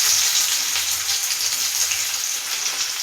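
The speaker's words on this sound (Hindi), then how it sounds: "मुई सेथि मुई टिके प्याज पकई देसी" Chopped onion fries with cumin seeds in a pan, a loud, close, continuous sizzle with a bright hiss and soft low rumbling underneath, no voices.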